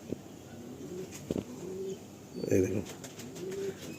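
A Madrasi pigeon coos in repeated low throaty phrases close by, while someone talks briefly over part of it.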